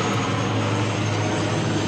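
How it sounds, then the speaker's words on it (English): Airplane flying toward Mactan airport near Cebu, a steady, loud engine roar that fills the whole moment without voices. "And you have these airplanes going to the Cordoba,"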